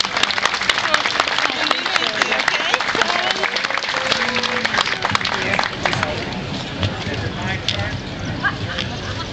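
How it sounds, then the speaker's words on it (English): A crowd claps and applauds steadily, a dense patter of many hands that gradually thins, with voices mixed in. "deserves a full round of applause"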